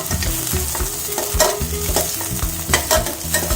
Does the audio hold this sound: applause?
no